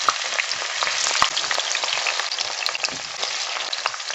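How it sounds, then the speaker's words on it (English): Onions sizzle and fry steadily in a hot pan while a spinach dish cooks, a loud, continuous crackling hiss heard up close with no talking. "We're going to put our onions in here."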